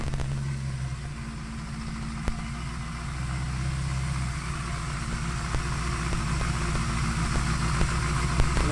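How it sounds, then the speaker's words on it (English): Honda CB550 four-cylinder motorcycle engine running steadily after a carburetor sync, with light throttle blips over a continuous close, loud idle and faint ticking; no talking. "After you adjust it, you're going to want to blip the throttle a little bit."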